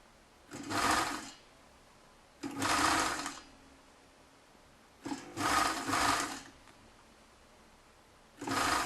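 A domestic sewing machine stitches a seam on a lined fur hat, running in four separate bursts of about a second each with short quiet pauses between them and no talk over the motor.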